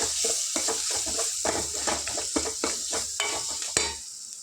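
Chillies frying with turmeric in a pan for a raw tamarind dal rasam, a steady sizzle under repeated rhythmic scraping and stirring strokes of a spoon, close and fairly loud, easing off at the end.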